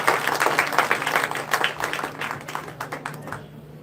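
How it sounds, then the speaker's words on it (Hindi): An audience claps warmly for children who have just performed at a formal public function attended by a rural development minister. Dense, steady applause rolls on for several seconds, then thins out toward the end. "बिना संकोच जमकर ताली बजाकर हमें बच्चों का अभिनंदन करें।"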